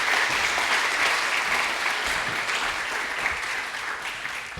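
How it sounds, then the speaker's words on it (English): Steady applause from a conference audience, continuous clapping filling the hall at a fairly loud, even level for the whole stretch before tapering slightly at the end. "So first, a big applause for Viktor"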